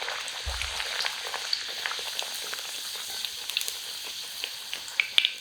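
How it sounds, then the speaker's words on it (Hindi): A single puri fries in hot oil over a high-to-medium flame, giving a steady close sizzle with crackling pops and spits throughout. A brief low thud comes as it goes in. "और अब फ्लेम को हम हाई टू मीडियम कर देते हैं और एक पूरी को डालते हैं।"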